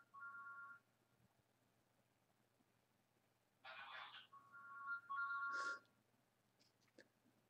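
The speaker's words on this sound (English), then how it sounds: "It's my phone going, I don't know if you can hear it." A mobile phone ringtone plays in short melodic bursts: one brief chirp at the start, then a louder run of tones with a rustle a few seconds later, moderately near in a quiet room.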